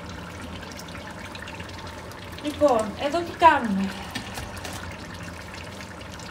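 Water from a tap runs into a cooking pot in a Greek home kitchen, a short gush of a second or so heard beneath a person talking.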